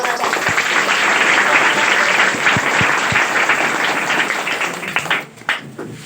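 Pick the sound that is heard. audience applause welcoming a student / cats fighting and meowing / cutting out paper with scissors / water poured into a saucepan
audience applause welcoming a student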